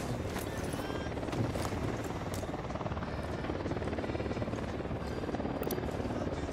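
Helicopter in Ghost Recon Wildlands, a loud continuous rotor thump with rhythmic chopping and rushing wash throughout, close and unbroken.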